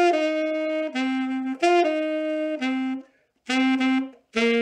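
Alto saxophone plays a riff phrase from a song descending to a low D then F, several sustained notes with short gaps and a pause, close and solo.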